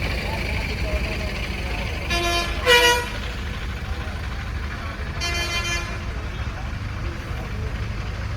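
Busy road traffic near Tirumala temple: a constant engine rumble with a couple of short horn toots cutting through, vehicles passing close by.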